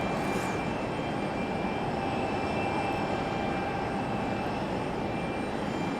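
An airliner departs Raleigh-Durham International Airport with a loud, steady, broadband engine roar that holds constant throughout, unbroken by voices.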